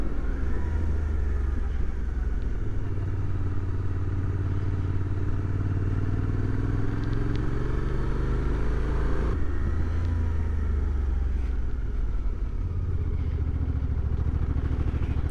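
A motorcycle ridden along a twisty mountain road in Almeria, southern Spain, its engine droning steadily and climbing in pitch, with a gear change partway through, close and continuous.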